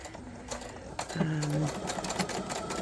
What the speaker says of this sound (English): I've just got a straight stitch, and I'm just going to, it's just to tack it down so that when we sew it